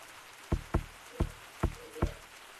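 Rain from a weather mod in the VR game Gorilla Tag, heard as a soft steady patter with five distinct thumping drops or taps spaced irregularly across the short stretch, fairly quiet overall.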